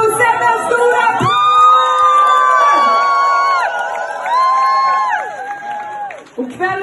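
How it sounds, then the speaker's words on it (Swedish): Concert crowd in Stockholm cheering loudly, with sustained high shouts and whoops rising and falling in long swells, close and dense, ending in a brief thump. "applåd!"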